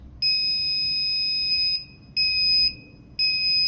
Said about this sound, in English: When the buzzer beeps twice, calibration is complete.